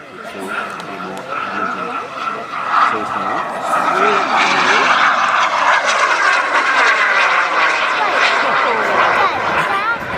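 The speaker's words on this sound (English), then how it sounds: "the air now is an F-15 Eagle owned by Royce Bucks of the March Club" A model F-15 Eagle jet flies at a model aircraft fly-in, its turbine whine swelling into a loud, sustained roar, with faint crowd noise underneath.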